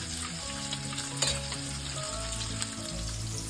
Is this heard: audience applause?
no